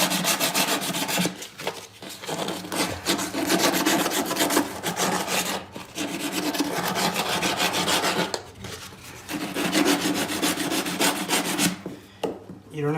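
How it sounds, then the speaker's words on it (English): 150 grit sandpaper scrubs a water pipe clean before a valve install, a steady close rasping in rapid back-and-forth strokes with short pauses between bursts, no talk. "Get some sandpaper."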